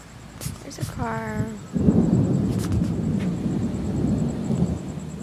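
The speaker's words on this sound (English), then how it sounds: "It's raining." Rain hisses steadily after a brief warbling tone and a few clicks, with a low rumbling undertone filling the background.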